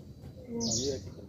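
A single short, bright bird call rises over quiet background sound and a low murmuring voice.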